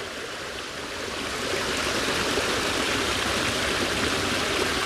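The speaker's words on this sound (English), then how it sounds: "And you have a beautiful waterfall." A small waterfall spilling beside an abandoned rail line, a steady broadband rush of falling water that swells slightly after the first second and then holds constant, with no voices.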